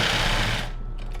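A sewing machine stitching lace panties with a backstitch whirs in a rapid, even burst for about a second, close and loud, then stops abruptly.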